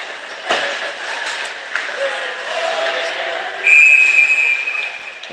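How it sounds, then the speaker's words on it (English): A referee's whistle blows at a youth ice hockey game between FHS and the Miami Jr. Redhawks to call offsides. It is one sharp, sustained shrill blast over a steady hum of rink and crowd noise. "Whistle here, I want to say offsides."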